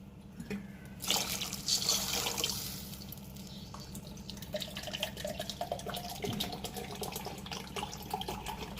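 Water poured into a cooking pot while making tomato bath, a near continuous trickling pour that splashes louder at first, then settles into a softer running flow.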